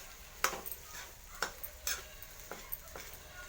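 Plantain pieces frying in a pan are stirred with a utensil, giving a handful of light scraping clinks over a soft, faint sizzle, heard up close without talking.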